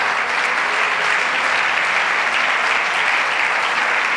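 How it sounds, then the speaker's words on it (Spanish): A congregation applauds loudly and steadily, a dense wash of clapping that holds for several seconds without pause. "Aplauda su gloria esta mañana."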